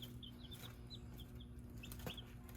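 Twenty Cornish cross chickens peep and chirp softly in a pen, a scattered run of short calls over a steady low hum.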